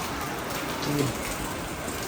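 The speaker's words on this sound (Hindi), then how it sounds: "बारिश जो आपको दिखाएं तो काफ़ी ज़्यादा बारिश हो रही है" Heavy monsoon rain pours steadily as a broad, continuous hiss of drops on surfaces, even and fairly close throughout, with no voices.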